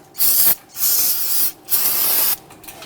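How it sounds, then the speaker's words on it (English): Three close, loud bursts of aerosol solvent spray onto rear brake parts of a 2010-2019 Ford Taurus, cleaning off residual brake fluid, each a sharp hiss lasting under a second, separated by short pauses. "We do want to go ahead and spray this down with some solvent to clean up any of that residual brake fluid"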